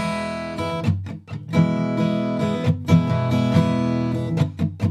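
Close acoustic guitar strumming in a steady down-up pattern with sharp, percussive muted strokes dropped between the chords, played alone without talk.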